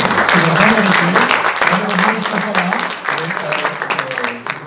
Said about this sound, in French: j'aimerais déjà qu'on les applaudisse un petit peu tous